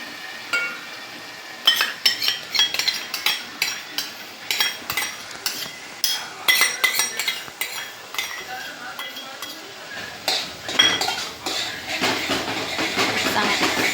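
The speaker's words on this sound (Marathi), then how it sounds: "दही घेतलं आहे मी अर्धी वाटी त्याच्यामध्ये आता मी मिक्स करते" A spoon stirs yogurt into okra masala in a pan, giving repeated clinks and scrapes in an irregular rhythm, close and clear, under a voice.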